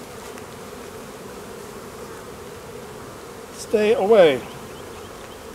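Bees buzzing around a beekeeper's face at an open hive during the nectar flow: a steady, faint insect hum throughout, then a louder, close pass of wavering buzz near the end as one flies right by, with a brief spoken word over it.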